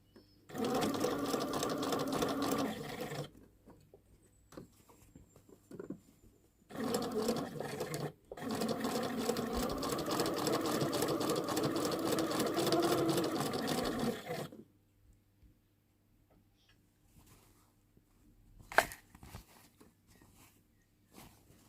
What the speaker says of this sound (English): sew it in the middle of between two lines of the gather stitch that we did it before.